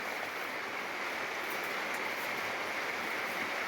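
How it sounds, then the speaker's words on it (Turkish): Steady rain falls continuously with an even, hissing patter, soft and constant throughout with no voices. "burada durarken yağmur sesi insana huzur veriyor"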